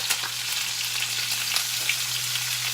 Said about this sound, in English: now we're going to sear this for 4 minutes